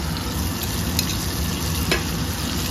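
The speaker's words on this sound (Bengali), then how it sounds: "এই যে লঙ্কাগুলো লাল হয়ে ভাজা হয়ে গেছে" Whole garam masala, bay leaf and dried red chillies frying in butter in a kadai, a dense, even sizzle that holds steady throughout, close by, with faint stirring clicks and no talk.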